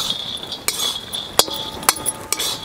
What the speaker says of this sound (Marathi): शेंगदाणा लसूण हे आपल्याला सगळं भाजून घ्यायचंय